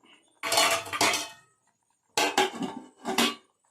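A lid is set onto a pan of frying duck: a few sharp, close metallic clanks and rattles in short bursts, separated by silence.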